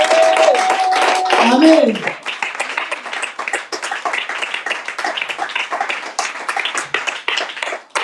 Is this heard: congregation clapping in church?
yes